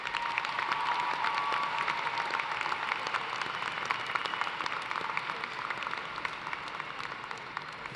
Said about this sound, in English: Graduates, please join me in giving a big round of applause to these family